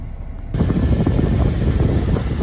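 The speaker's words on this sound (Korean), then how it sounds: "엔진 체크 한번 해보고 엔진 소음 한번 들어보면서 검수 마무리하고" A 2023 Jeep Wrangler two-door's engine starts abruptly after a brief quiet moment with a loud, steady rumble and keeps running evenly, with no talking.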